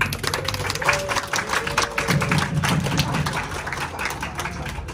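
Applause from a counseling workshop audience, a steady dense patter of many hands clapping at moderate distance, with faint voices mixed underneath throughout.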